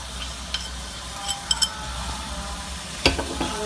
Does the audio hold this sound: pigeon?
no